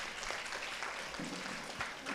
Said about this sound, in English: give a big round of applause to the toppers who have come here to share their wonderful experience